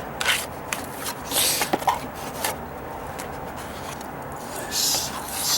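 Scraping and rubbing of a trowel spreading freshly mixed Fix-It-All repair compound onto dry-rotted wooden deck stairs, irregular close strokes with brief louder swipes.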